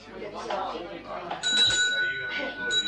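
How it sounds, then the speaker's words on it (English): A hand bell is rung during a class, producing bright, sustained metallic ringing that starts partway through and lasts to the end, with people talking underneath. "I'll ring the bell."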